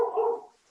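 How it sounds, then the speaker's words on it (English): A single short dog bark or yelp, close and clear, fading quickly, picked up during a municipal budget meeting. "Whose dog is that?"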